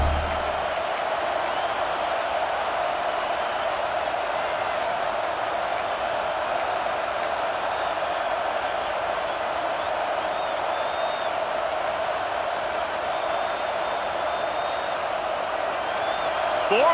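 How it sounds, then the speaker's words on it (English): A dense stadium crowd roars steadily throughout in EA Sports College Football 26, a constant loud wash of cheering from a full college football stadium on a fourth down play, with commentary voices over it. "this crowd is making it miserable on this offense"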